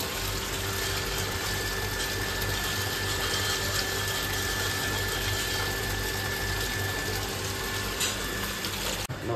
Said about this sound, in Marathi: पाणी आले तर टाकी भरत घेतली दोन्ही पण